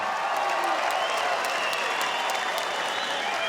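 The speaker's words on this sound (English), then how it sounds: "Let's have a round of applause for these two fighters." Sustained, loud applause from a fight-night crowd cheering two 86kg fighters after a three-round bout, dense clapping filling the whole stretch with a faint murmur of voices beneath.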